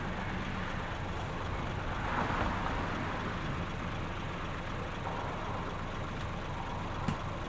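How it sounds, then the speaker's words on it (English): A distant bus engine makes a low, steady rumble across a quiet, empty street at night, faint and continuous without any voices. "Finally, we heard it, a low engine sound from far away."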